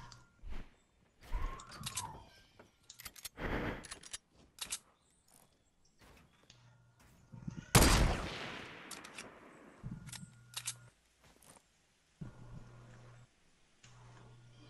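Video game gunfire comes in scattered bursts and single shots, with one long, loud volley in the middle, mixed with clicks and footsteps.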